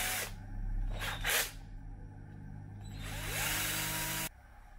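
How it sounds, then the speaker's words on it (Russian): A drill bores a hole in a 3D-printed RC car front suspension part, with short bursts of close, high whining drilling followed by a longer sustained run that cuts off sharply, over a steady low hum. "поэтому надо просверлить"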